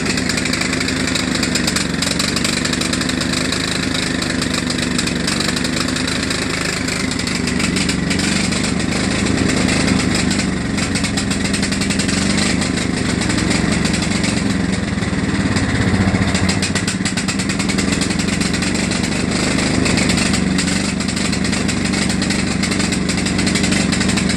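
A John Deere LA105 lawn tractor engine runs loud and close with a steady, rough drone that holds an even pitch for the whole stretch, with no talk over it.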